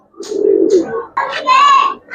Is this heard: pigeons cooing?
yes